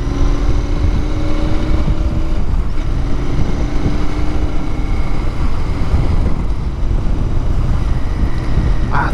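A Royal Enfield Continental GT motorcycle heard while riding, its steady engine drone buried under constant heavy wind rush, loud and continuous with no talk.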